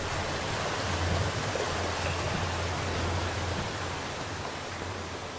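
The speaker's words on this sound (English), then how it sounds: "I hear rushing water." Rushing water echoes through a large cave system in the video game In the Mountains, a steady broad hiss with a low rumble, continuous and fairly distant, with no voices.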